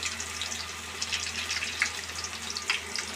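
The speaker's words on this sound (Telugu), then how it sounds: "ఇలా ఒక్కొక్కటి వేసుకుంటూ మెల్లగా కలుపుకోవాలి. ఎర్రగా వేగాలి, అప్పుడు క్రిస్పీగా వస్తాయి." Chicken pakoda pieces frying in hot oil, a continuous bright crackling sizzle with small irregular pops, heard close and alone without any talking.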